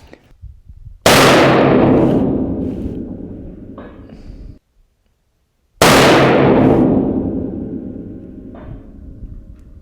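A hunting rifle fired at a target 700 yards away, two loud sharp cracks several seconds apart, each followed by a long rolling echo that fades outdoors.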